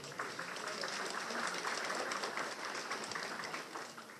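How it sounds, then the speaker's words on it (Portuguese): Audience applause at a business talk in Brazil, a steady wash of clapping from a crowd that holds for several seconds with some murmur underneath. "Pode vir aqui à frente, receba os aplausos"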